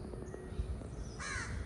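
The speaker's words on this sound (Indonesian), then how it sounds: "Ada suara ini lagi, burung gagak." A crow caws once, faint and fairly distant, over quiet outdoor background in Singapore.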